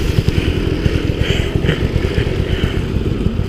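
A Beta 300RR two-stroke dirt bike engine bogs at low revs, a loud, close, lumpy burbling putter with uneven pulses and no clean climb in pitch.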